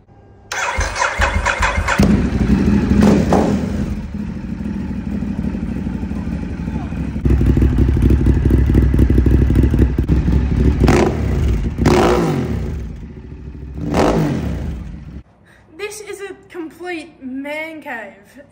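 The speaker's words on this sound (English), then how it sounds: "So, Jim, can we have a listen to this Ducati?" A Ducati motorcycle engine cranks and fires, then idles with a loud, close rumble broken by several sharp revs that rise and fall before cutting off near the end, with voices briefly audible over it.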